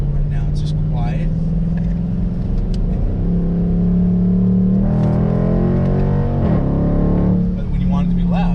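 A Dodge Durango with a cheap aftermarket exhaust cruising at low speed, a steady low droning engine hum with gentle rises in pitch, while someone talks over it.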